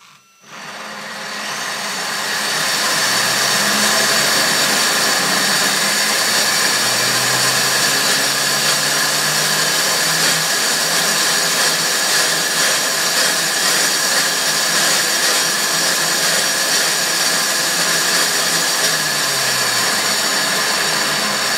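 An electric motor in a model car spins up on a rolling road dyno, rising over the first few seconds into a loud, steady, high whirring that holds to the end.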